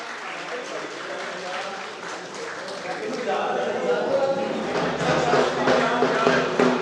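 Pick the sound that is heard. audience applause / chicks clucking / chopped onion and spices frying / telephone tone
audience applause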